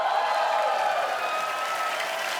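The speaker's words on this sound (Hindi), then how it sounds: "तो जोरदार तालियां हो जाए।" Studio audience applause at a television comedy show, a steady, full wash of clapping from a crowd throughout.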